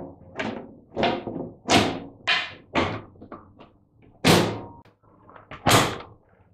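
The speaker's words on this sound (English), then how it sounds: "Refit the lid." A washing machine lid is refitted with a run of about nine separate plastic knocks and thuds at an uneven pace, close and fairly loud, with no talking.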